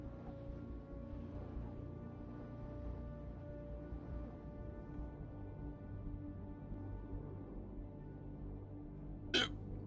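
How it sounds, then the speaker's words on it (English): A single sharp hiccup bursts out near the end over a steady bed of game background sound from a GTA roleplay session, loud and brief against the continuous hum. "Oh, I got hiccups."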